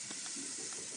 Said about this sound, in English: There's steam going everywhere.